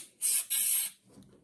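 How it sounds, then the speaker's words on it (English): Two short hissing bursts of aerosol cleaner sprayed into a headlight connector while upgrading Hella H4 housings on a Datsun 240Z, close and crisp with a brief gap between them, then a faint rustle. "So I'm just going to spray some in"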